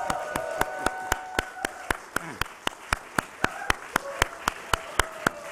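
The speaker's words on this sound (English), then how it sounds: "Let's give a round of applause" Rhythmic, evenly spaced sharp claps, about four per second, sound alongside tonal music and cheering at the NASDAQ opening bell ceremony for AAON, close and clear throughout.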